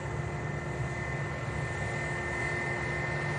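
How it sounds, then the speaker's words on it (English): An Airbus A380 rolls onto its stand at Manchester Airport, a steady, loud, droning jet engine roar with a constant whine, unbroken and with no talking. "Guiding the aircraft onto stand."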